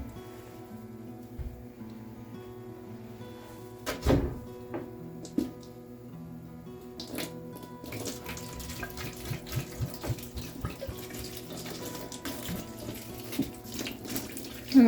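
A kitchen tap runs steadily at moderate volume while seedling pots for tomatoes, peppers and cucumbers are watered, with scattered clinks and splashes growing busier toward the end.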